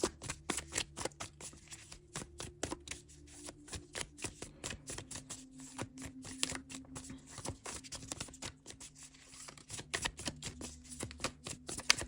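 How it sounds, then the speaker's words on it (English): Oracle cards shuffled by hand in rapid, continuous flurries of crisp riffling clicks, close and quiet, with short pauses between bursts and no talking. "Let's go ahead and pull out some oracle cards here for you."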